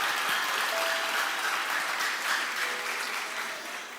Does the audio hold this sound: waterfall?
no